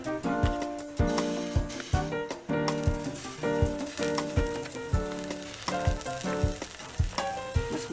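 Butter sizzles and melts in a hot kawali for a buttered garlic seafood dish, a steady close crackle running beneath rhythmic background music.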